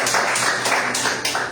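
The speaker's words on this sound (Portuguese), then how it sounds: "E as palmas louvam o Senhor." Church congregation clapping in praise during a Portuguese-language service, loud rhythmic claps in unison with a steady pulse of about three beats per second, close and continuous across the short stretch.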